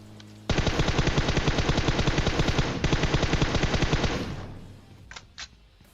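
Rapid automatic gunfire in a battle royale game, a loud sustained burst of evenly spaced shots lasting several seconds, then fading into a few scattered quieter pops.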